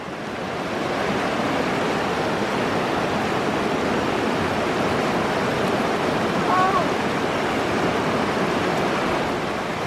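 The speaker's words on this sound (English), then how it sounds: "We've got the Salmon River here, and I think this is the spring," The Salmon River flowing beside a hot spring, a broad, continuous rushing roar of moving water, close and steady across the whole stretch, with slight wind buffeting the microphone.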